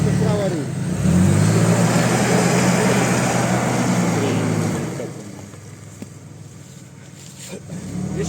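A Lada Niva off-road car revs its engine while reversing on an autumn off-road track, a loud sustained roar that drops off after a few seconds, with people talking over it.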